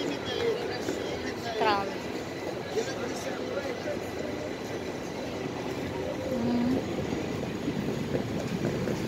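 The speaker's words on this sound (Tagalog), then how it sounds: "Now is coming yet another train. Tram." A Milan tram pulls in on the line to San Siro, a steady rumble of wheels on rail with a brief squeal, heard at moderate distance amid street noise while a person talks over it.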